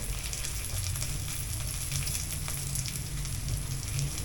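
Chicken liver and gizzard sautéing in a pan with chili oil and pepper, giving a steady, close, dense sizzle and crackle that runs unbroken throughout with no voices.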